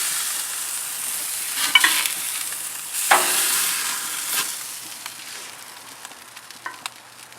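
NY strip steaks searing on a propane barbecue grill, a steady close sizzle with bursts of hiss and scraping as the meat is moved, fading gently toward the end with no voices.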